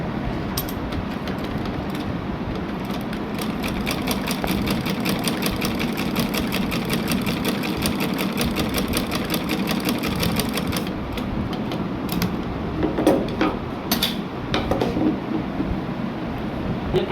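A sewing machine stitching the waistband of a belted shalwar, a loud close rapid mechanical rattle running steadily for most of the time, then easing into a few shorter bursts with clicks near the end; no speech.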